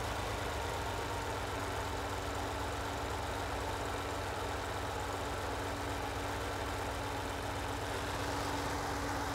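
A classic Italian V12, a Ferrari Daytona or Lamborghini 350GT, idles steadily after a carburetor adjustment, giving a continuous low, even rumble at close range with no talk over it.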